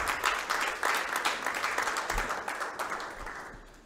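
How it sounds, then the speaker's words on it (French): Audience applause greets panelists at a talk on agricultural initiatives in the DRC, a thick, lively wash of many hands clapping at once that tapers off slightly toward the end. "Applaudissez très fort, s'il vous plaît."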